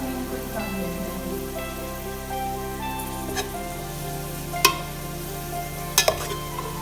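Onions fry in a pan with a constant close crackling sizzle, steady throughout with a few sharp clicks and pops near the end.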